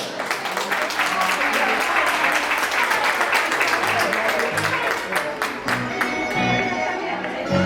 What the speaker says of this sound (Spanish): mandamos ese forte aplauso a xogadora Chusa, forte aplauso